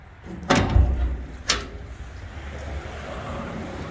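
Metal door of a heavy-duty double door smoker grill on a barbecue trailer, with two sharp thuds about a second apart followed by a low rumbling hum.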